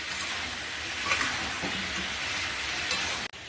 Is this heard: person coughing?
no